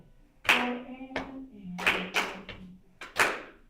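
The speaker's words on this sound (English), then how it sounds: "let me just hear the clapping" A group claps a rhythm at a ukulele orchestra rehearsal, sharp close claps landing in short syncopated clusters of one, two and three. A low sustained tone sits underneath.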